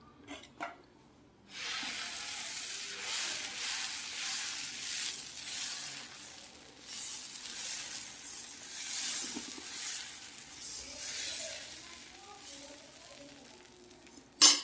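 Dosa batter made from parboiled rice sizzles steadily on a hot pan for over ten seconds, a broad hissing wash with occasional faint utensil clinks, no one talking.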